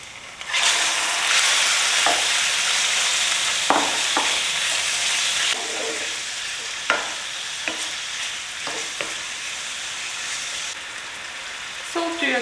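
Spicy beef strips sizzle loudly as they stir-fry with softened onions, a dense hiss that eases a little partway through, punctuated by repeated spatula scrapes and taps.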